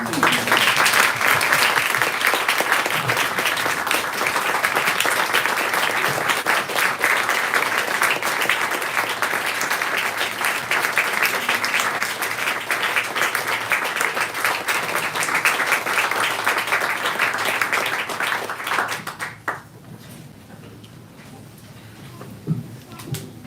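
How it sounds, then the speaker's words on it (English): Sustained audience applause at a bookstore author event fills the room steadily for about twenty seconds, then drops off abruptly to near quiet. "Can we just stand and have a moment to applause?"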